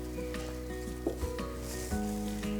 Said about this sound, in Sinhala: මේ වෙලාවේ තෙල් එක නම් නටනවා සුබෝ. සද්දෙත් ඇහෙනව නේද?